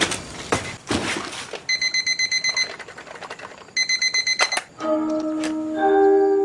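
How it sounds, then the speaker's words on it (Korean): An alarm clock rings in loud, rapid bursts of metallic beeping, pausing and starting again, with clattering and a steady electronic tone toward the end. "자명종이 신나게 알람을 울리고 있었습니다"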